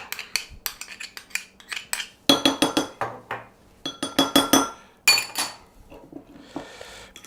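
A spoon clinks and scrapes against a bowl, scooping crème fraîche and mashing it into tuna, with quick close-up taps and knocks in uneven bursts.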